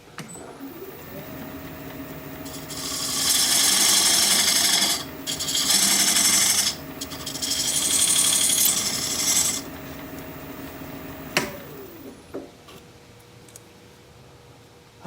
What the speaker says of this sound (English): I'm just going to use this diamond point tool to make sure I have straight sides on my tenon.